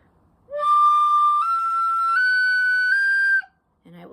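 A tin whistle in D blown hard, climbing through a run of high, shrill sustained notes that step upward over about three seconds and then stop, followed by a brief soft noise.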